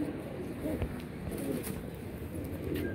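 Domestic pigeons, a breeding pair of male and female, coo softly and repeatedly at close range, with a low murmur of background noise throughout.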